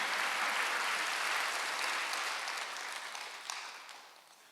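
A church congregation at a Wednesday worship service breaks into sustained applause, a dense wash of clapping that gradually fades toward the end, with no talk over it.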